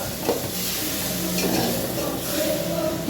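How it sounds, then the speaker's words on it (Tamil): Pieces of chicken sautéing with ginger and garlic in a pan for a chicken curry, a continuous close sizzle with repeated scraping stirs and faint clinks of the spoon. "சிக்கனை போட்டு நல்லா இந்த இஞ்சி பூண்டோடு நல்லா வதக்கிக்கிட்டே இருக்கணும்"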